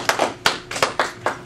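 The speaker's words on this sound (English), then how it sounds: "Let's give a warm round of applause to Mr." Sparse hand claps ring out in an uneven rhythm over about a second and a half, like a small audience starting a round of applause.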